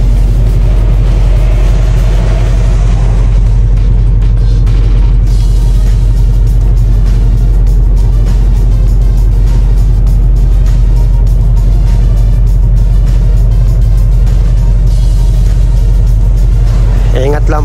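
An automatic car wash runs over a Mercedes G63, its machinery giving a loud, steady rumble with whooshing spray and brushing throughout, while people talk over the din.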